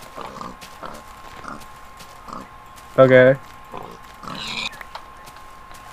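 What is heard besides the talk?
pig oinking in Minecraft video game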